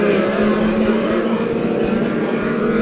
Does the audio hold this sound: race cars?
yes